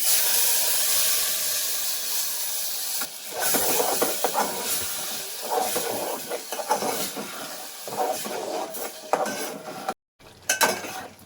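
Tomato paste fries in a pan for a jackfruit seed gravy. The loud steamy hiss comes in uneven surges, with pan and utensil clatter and a brief drop-out near the end.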